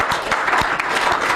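Women in a crowd clap in a steady burst of applause, close and continuous through the whole moment.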